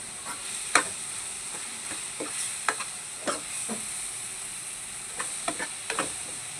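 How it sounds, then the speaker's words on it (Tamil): Ingredients for a mutton gravy sizzling and being stirred in a pan over a low flame, a steady frying hiss with scattered clicks and scrapes of the spoon, close and moderately quiet, no talking. "மக்களே இப்படி வதங்கணும்."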